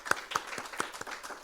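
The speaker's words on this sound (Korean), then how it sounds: "우리 하나님께 영광의 박수 돌려드리겠습니다." Sparse, rhythmic applause from a church congregation, a handful of distinct, fairly close hand claps in quick succession over about a second and a half, with no talking.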